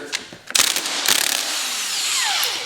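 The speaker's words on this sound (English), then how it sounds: "we'll get the bigger impact and a deep well socket" An impact wrench with a 17 mm socket zaps a nut off a 1983 Yamaha DT80 enduro during fork seal work, a close, loud rattling burst of hammering that settles into a steady whir, then spins down.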